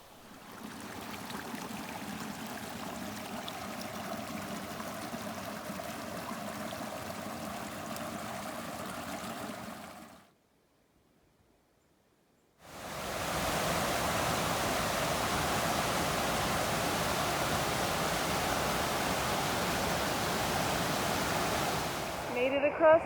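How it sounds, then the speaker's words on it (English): Glacier runoff creek water rushes steadily nearby, a broad constant roar that drops out briefly before returning just as loud and continuous. "I'm going across a bunch of creek crossings that are runoffs from this glacier"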